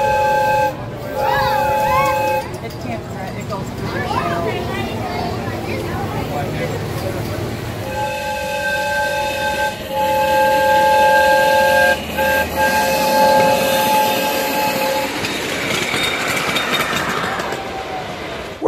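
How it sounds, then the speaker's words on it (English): A live steam locomotive on the Largo Central Railroad sounds its whistle in several steady tones between stretches of rumbling rail noise, heard close and loud amid crowd chatter. "the guy that was running the steam locomotive that we saw several times in the video"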